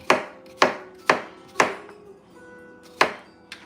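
A knife chops a cucumber on a board in five sharp, evenly spaced strokes, then one lighter tap, close and clear with no talking.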